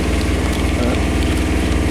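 A boat engine idles at low revs, ticking over and almost cutting out as the craft heads onto the water off the Sussex coast; a loud, steady, close rumble with no talk.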